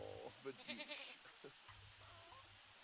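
A Dalmatian mini goat in The Sims 4 gives a few short bleats over quiet game music and ambience, the calls quick and close together before fading into background hum.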